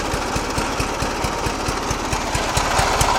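A Trapper mini bike's small single-cylinder engine runs close up with a steady, fast thumping idle and lumpy, uneven pulses like a loping big twin, loud and alone.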